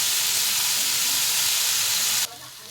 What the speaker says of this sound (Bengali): পেঁয়াজটাও ভাজা হয়ে যাবে, আলুটাও ভাজা হয়ে যাবে।